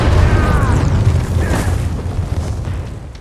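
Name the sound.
bomb explosions from aerial bombardment in film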